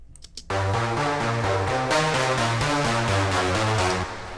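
A bright saw pluck synth patch from Reveal Sound Spire 1.5, shaped with reverb and a mid-boosting EQ that trims lows and highs, plays a steady repeating melodic pattern of short plucked notes, loud and continuous, with no talking.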